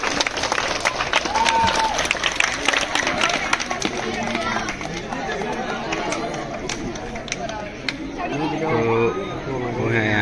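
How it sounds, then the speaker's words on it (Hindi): Audience at a boxing match claps and chatters as the bout is about to start: a dense stretch of rapid hand claps over busy crowd babble, with voices talking throughout. "कृपया ताली बजाकर इस मैच को आरंभ करें"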